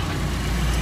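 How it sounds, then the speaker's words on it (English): A 1996 Mitsubishi Lancer Evolution IV GSR engine idles steadily with a low, even rumble, close by and unbroken, with no voices over it. "So this is the motor running."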